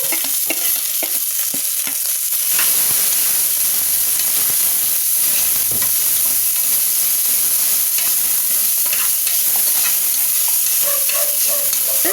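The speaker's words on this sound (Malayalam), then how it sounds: "എണ്ണ ചൂടായി അപ്പം നമ്മൾ നേരത്തെ ചതച്ച് വെച്ചേക്കുന്ന കൂട്ട് എടുത്ത് ഇതിലോട്ട് ഇടുവാണ്" A crushed spice mix hits hot oil with a loud, steady sizzle and hiss, broken by occasional stirring scrapes; a few clinks sound just before the frying begins.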